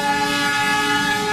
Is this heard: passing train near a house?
yes